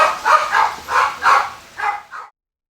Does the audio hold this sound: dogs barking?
yes